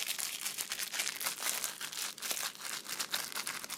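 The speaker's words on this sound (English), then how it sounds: "This is the loud, crinkly stuff." Crinkly plastic shrink-wrap torn off a video game case: a dense, continuous crackling and crumpling, close and fairly loud, with no talking.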